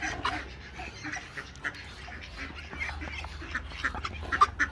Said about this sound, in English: This little duck just don't want to leave the water when she's eating.